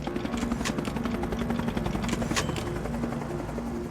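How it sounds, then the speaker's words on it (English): A helicopter lifts people off a building roof during the evacuation of Saigon, its rotor a steady, dense thrumming roar that fills the scene without a break, with sharp cracks cutting through now and then. "The scenes of the helicopter lifting people off of the roof of the building"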